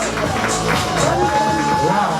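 Applause and cheering from a pageant audience for a contestant at the Miss Queen Ngoma semifinal in Gitega: a steady, close crowd roar with scattered shouts and whoops, and a sustained tonal voice or music line running over it.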